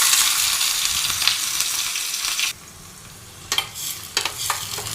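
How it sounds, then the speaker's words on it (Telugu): Onions and green chillies with tempering spices fry in hot oil, a loud, dense close sizzle that drops suddenly midway, followed by a few stirring scrapes over a softer hiss, with no speech. "ఉల్లిపాయ, పచ్చిమిర్చి ముక్కలు మంచిగా దూరగా అయ్యేంత వరకు వేయించుకోవాలి."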